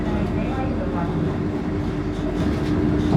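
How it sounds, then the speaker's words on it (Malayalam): A Vande Bharat Express train rolls into Alappuzha station as a steady, loud rumble of wheels on rail with a faint clatter. The sound holds level throughout, with a voice talking underneath. "അപ്പോൾ നമ്മളങ്ങനെ ആലപ്പുഴ സ്റ്റേഷനോട് പ്രവേശിക്കുകയാണ്."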